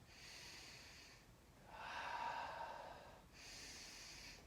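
Deep, slow breathing during a breath work and stretching session: two long, soft exhales with an airy, nasal edge, separated by a louder, longer draw of breath, all faint and close with no talking.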